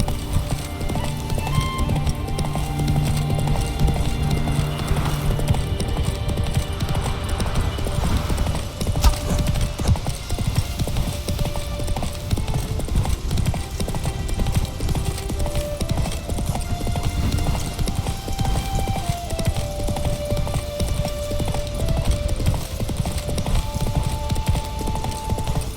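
Horse hooves clip-clop steadily through a Witcher 3 game scene, a continuous trotting rhythm set over a low ambient hum and music, with an occasional whinny and no talk.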